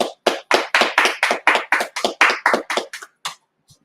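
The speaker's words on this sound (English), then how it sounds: "Let's clap it up." A congregation claps together at a Sabbath service, about fourteen sharp, evenly spaced claps in a quick steady rhythm, close and loud, trailing off at the end.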